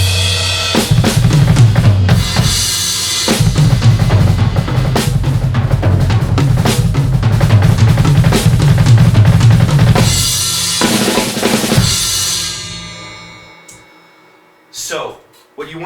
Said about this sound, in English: So the 16th note triplet, in my eyes, is one of the best ways to warm up, and it sounds something like this.